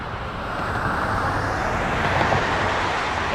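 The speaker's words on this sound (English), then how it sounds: "Moving out of the way for SkyWest 5491, a United Express flight to Chicago O'Hare." At Toronto Pearson airport, a SkyWest United Express Embraer 175 taxis with a steady, even jet-engine rumble and hiss held at a moderate distance throughout.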